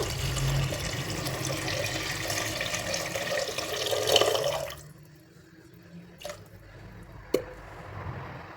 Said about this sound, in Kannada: ಇವಾಗ ಇದಕ್ಕೆ ನಾನು ಮೂರು ಗ್ಲಾಸಿನಷ್ಟು ನೀರು ಹಾಕ್ಕೊಳ್ತಾ ಇದ್ದೀನಿ